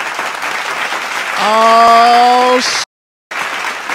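Crowd-style applause and clapping hiss steadily as a voice lets out a long, drawn-out shout over the top; the sound cuts out abruptly for a moment near the end.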